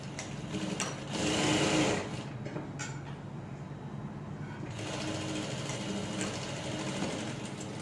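Sewing machine stitching the crotch seam of a pair of shorts, a steady fast motor whir with a louder burst early on, short pauses, then continuous running to the end.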